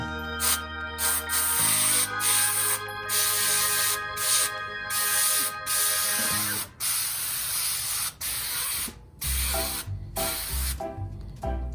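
An airbrush sprays paint in bursts of fine hiss that start and stop repeatedly, with a low mechanical hum underneath and some clicks, close by and fairly loud.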